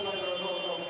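A buzzer sounds at the end of a period in the Adidas Next Generation Tournament basketball final involving Real Madrid. It is a steady sustained electronic tone over loud arena crowd noise, with commentary talk underneath.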